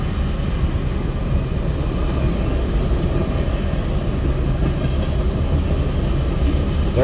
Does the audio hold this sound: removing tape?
no